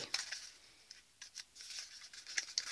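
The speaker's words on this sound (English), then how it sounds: "You may need to make a few snips here and there just to make sure that it does go in" Scissors snip through cardboard in a quick series of close, crisp cuts, some clustered in pairs and others spaced apart, with no talking.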